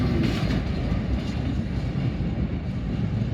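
CSX freight train with a CP locomotive leading and a pusher on the rear, rolling through Deshler: a loud, close, continuous rumble with steady wheel and car noise and no talking.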